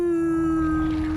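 A dog howls inside the Warzone shooter game, one loud sustained mournful tone that holds steady and fades slightly at the end, heard alone.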